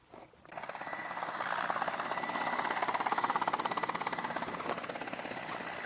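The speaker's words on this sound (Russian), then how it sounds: "Подлетает вертолет, поэтому закрываемся." A helicopter's rotor thumps steadily and grows louder as it draws near to land at a forest fire site, a dense throbbing roar that fills the whole clip.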